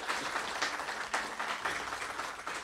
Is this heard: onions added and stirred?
no